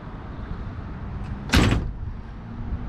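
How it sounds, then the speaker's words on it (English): The door of a 1970 Dodge Coronet R/T convertible shuts with a single solid, close thud, heard over a low steady background hum. "Door closes nice and solid"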